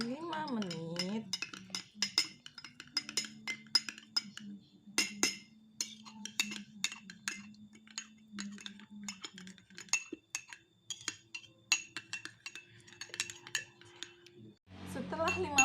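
A spoon stirs sugar into water in a glass, giving a quick series of bright metallic clinks and taps against the glass, close and fairly steady, with a low hum underneath and a brief voice at the end.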